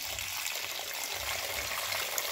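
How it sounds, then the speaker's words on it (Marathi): Cooking water is poured off soft-boiled lentils into another vessel, a steady soft gush of liquid running continuously and fairly quietly. "ही बघा आता डाळीच पाणी असं काढून घ्यायचं सगळं।"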